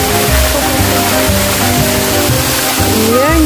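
A waterfall on a hiking trail roars in a steady, loud wash of rushing water, with a low hum and a faint rising tone mixed in near the end.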